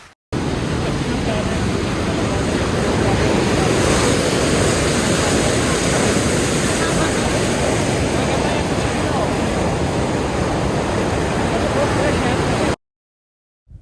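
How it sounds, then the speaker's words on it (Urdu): Steady rushing water of the Lower Bari Doab canal in Punjab at sunset, a loud continuous broadband roar like surf or a waterfall, unbroken from start to finish before cutting to silence. "شام کی خاموشی میں پانی کا شور بھی سنیں"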